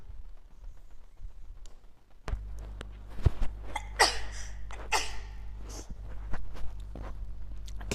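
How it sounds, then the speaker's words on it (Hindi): A few sharp sneeze-like and cough-like bursts break out over a steady low hum, spaced a second or so apart, fairly close and loud. "आज तो हमको बहुत छींक खांसी आ रहा है"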